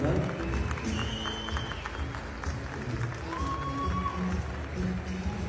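Steady applause from an audience at an award presentation, a continuous bed of clapping heard under someone speaking over it.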